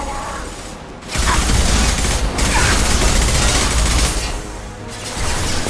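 Gunfire in the sci-fi video game Mass Effect, dense bursts of shots and mechanical clatter from a firefight, loud and continuous after a quieter opening second, with brief pauses between volleys.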